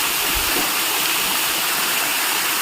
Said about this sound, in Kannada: beautiful water falls guys